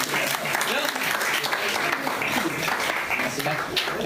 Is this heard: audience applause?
yes